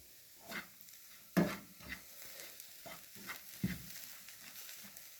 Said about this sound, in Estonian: Panin pannile sutsu toiduõli ja siis need saiakuubikud. Nüüd praeme nad sellised pruunikaks